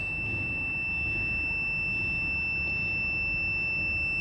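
Continuous high-pitched beep from a digital multimeter on continuity test across an intact wire, a steady unbroken electronic tone holding for the full length over faint background hiss.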